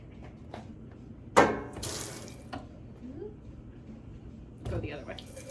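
A faucet runs during a surgical hand scrub at a sink, with a sudden splash of water that then rushes steadily and a second gush near the end, under a person talking.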